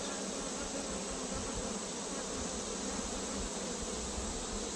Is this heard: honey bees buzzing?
yes